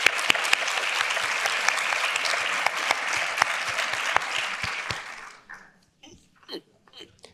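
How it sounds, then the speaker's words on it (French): An audience at a regional food-project plenary session applauds five panel participants, with dense, lively clapping for about five seconds that stops abruptly, leaving a few scattered sounds. "je voudrais que vous applaudissiez nos 5 participants"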